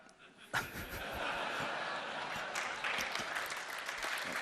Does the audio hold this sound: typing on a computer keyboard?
no